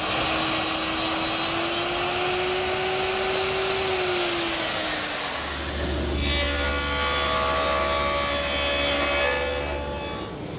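A power router or mill cutting a dado into the oak bottom rail of a Mission-style desk's back panel, with a whining motor tone that shifts pitch, then a harsher buzzing cut with low rumble, loud and continuous.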